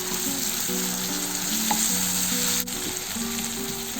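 Chopped tomato sizzling in hot oil with turmeric while raw papaya curry is cooked, a steady loud frying hiss throughout with a brief scrape of stirring and no talking.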